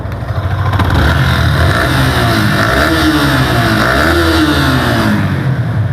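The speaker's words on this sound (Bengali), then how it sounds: "আপনারা একটু আপনারা একটু বাইকের সাউন্ড একটু শোনেন" A serviced Yamaha R15 V3 motorbike engine runs loud and close, holding a steady idle and then revving up and down in smooth rising and falling swells across the whole stretch.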